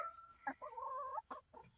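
Hens cluck in short, throaty bursts with a drawn-out warbling call in the middle, close by over a steady high background hum.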